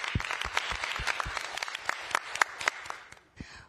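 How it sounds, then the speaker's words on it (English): Applause at a hybrid city council meeting in U.P., honoring police chief Burke and his department, with a steady smattering of claps that thins and fades out toward the end. "Big applause."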